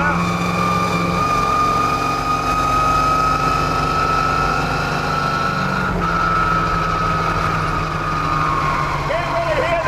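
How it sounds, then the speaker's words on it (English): A continuous high straight-cut gear whine rides over a droning engine inside a car, its pitch slowly shifting, loud and steady throughout. "Are those straight cut gears I'm hearing?"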